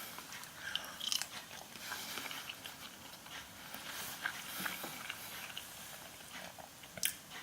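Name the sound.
chewing and biting into a ready-meal sausage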